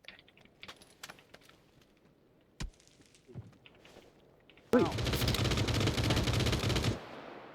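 Gunfire in the game PUBG bursts out as a loud, rapid automatic volley lasting about two seconds, following scattered sharp clicks and a few isolated shots, with a voice briefly heard.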